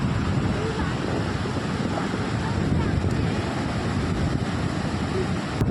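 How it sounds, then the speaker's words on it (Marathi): Strong wind buffets the microphone over rough sea waves breaking along the Malvan coast before a cyclone, a dense, unbroken roar that stays loud for the whole moment. "तुमका आवाज येत असेल तर तुमका समजात की आज वारो किती आहे"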